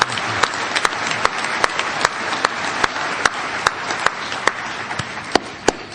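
A sobriety meeting crowd in Los Angeles claps steadily for a speaker celebrating nine years sober, a dense sustained applause with sharp individual claps standing out above it.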